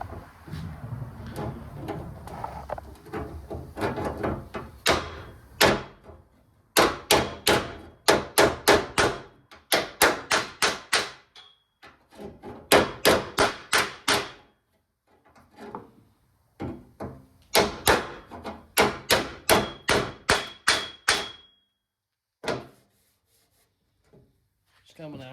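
Hammer strikes on a 1978 Ford tailgate while patching it, several bursts of rapid sharp metallic blows separated by pauses, close and loud.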